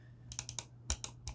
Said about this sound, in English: that Titan switch optical key underneath this button that you're actually hearing